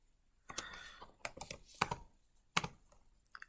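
Typing on a computer keyboard while writing a model config file: quiet, close, irregular key clicks in short bursts with brief pauses.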